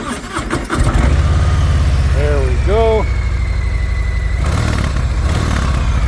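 A 2024 Harley-Davidson Heritage Classic motorcycle with stock exhaust pipes cranks and catches, then settles into a steady, low idle rumble, with a brief spoken remark near the start.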